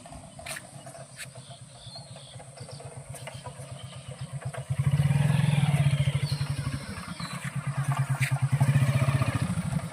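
A motorcycle rides along a badly potholed rough road in Kachua, Nagaon district, Assam. Its engine putters steadily up close, then swells louder and rougher about halfway through, easing briefly before rising again.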